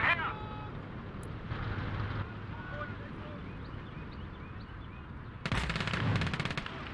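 Gunfire aimed at an SU-152 in the WWII game Call to Arms: Gates of Hell, heard as steady battle noise. A louder burst of shots lands near the end, and voices talk over the whole scene.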